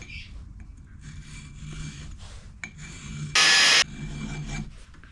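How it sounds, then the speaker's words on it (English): Hand file rasping across a flat spot on the bottom of a 3D printed plastic key, a steady close scraping texture through most of the stretch with one brief sharp burst partway through. "just file that very precisely"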